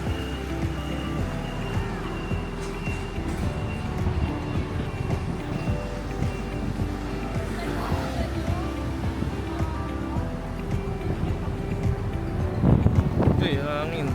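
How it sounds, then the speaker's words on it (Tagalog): Strong wind buffets the microphone on a Taipei street near City Hall. A steady low rumble roars for the whole stretch, with a louder gust toward the end. "Lakas ng hangin."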